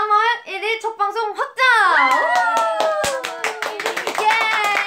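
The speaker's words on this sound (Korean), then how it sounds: "박수!" Members of the K-pop girl group TWICE clap along in a bright, sharp burst of handclaps while chattering and cheering over it, close and lively.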